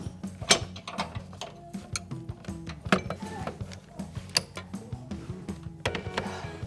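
A 7/8 ratcheting wrench slowly works a bolt on the suspension of a 1996 Toyota 4Runner, giving close metallic clicks and small clunks in an uneven rhythm, with no talk.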